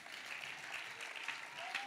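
A congregation applauding at a church service, a steady wash of clapping from many hands held at a moderate, somewhat distant level throughout.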